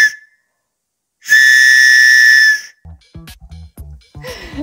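A single loud, sustained whistle blast rings out for over a second on a mountain hike, followed by a few quieter knocks and rustles.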